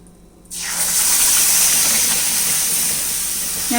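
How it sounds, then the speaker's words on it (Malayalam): Thick curd pours steadily into a hot iron kadai with the flame switched off, a loud continuous liquid rush and sizzle. It starts abruptly after a brief quiet moment and carries on unbroken, with no talking over it. "ഇനി നമുക്കിതിലേക്ക് ഉടച്ച് വെച്ചിരിക്കുന്ന തൈര് ഒഴിച്ച് കൊടുക്കാം."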